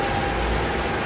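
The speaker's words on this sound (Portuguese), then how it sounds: "Barulho localizado aqui na região do motor. Barulho muito forte." Strong abnormal noise from a Fiat Argos engine bay, a steady loud idling drone with a thin constant whine on top, continuous and close with no talk.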